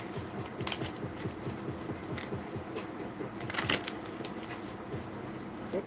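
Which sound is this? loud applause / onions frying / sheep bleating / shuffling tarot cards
shuffling tarot cards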